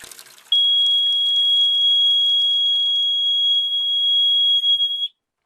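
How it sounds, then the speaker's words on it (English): A Watchdog water leak alarm with remote sensors sounds during a battery test, giving one loud, steady high-pitched electronic tone that holds for about four and a half seconds before stopping abruptly. "this is just a test to make sure my water alarm is working"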